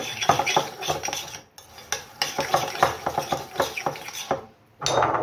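Seasoned, hand-cut beef tartare is worked together in a bowl, producing close, irregular wet squelches and utensil scrapes in quick bursts, with a brief pause before a final scrape.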